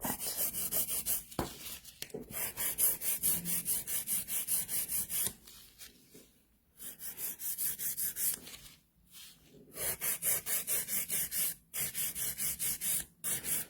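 A nail file refining and shaping sculpted gel nails, quick rhythmic rasping strokes close up in bursts separated by short pauses, with no talking.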